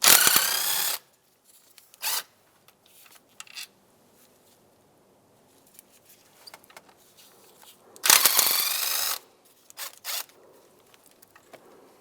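Removing 5/16 intake bolts on a 2007-2015 Mazda CX-9: two loud bursts of a power tool spinning, each about a second long, separated by quieter ratcheting clicks and metallic handling noises.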